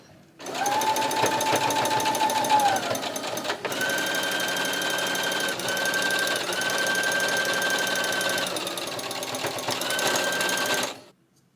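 A sewing machine stitches stretchy fabric in a fast, steady mechanical rattle. It runs close and loud for about ten seconds with one short pause, and no voices are heard.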